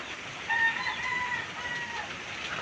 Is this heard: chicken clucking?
yes